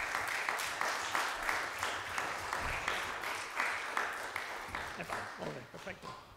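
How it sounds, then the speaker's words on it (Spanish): Audience applause for a chamber ensemble after a contemporary concert piece, a steady dense patter of many hands throughout, with some voices mixed in and thinning toward the end. "un aplaudiment per a ells"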